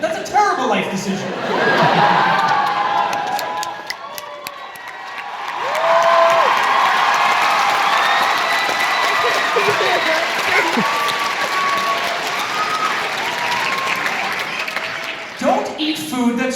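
A live comedy show audience in Oslo cheers and applauds loudly, with whoops and scattered laughter over sustained clapping that dips briefly and then swells again.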